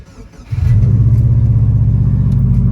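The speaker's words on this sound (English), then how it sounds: "We're gonna have to let this thing warm up for a minute too." A Subaru WRX engine starts and settles into a steady, deep, throbbing idle as it warms up, loud and close, with a low rumble holding evenly after a brief quieter moment at the start.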